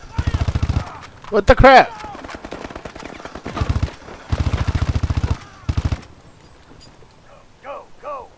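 Gunfire in the PS4 campaign of Advanced Warfare: several short, rapid automatic bursts, loud and close, with a voice exclaiming between them.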